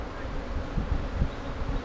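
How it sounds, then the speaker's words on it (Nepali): Honeybees buzz around a hive in a steady, close, low hum that swells and dips slightly, with no voices. "एकदम राम्रो मौरी है यो"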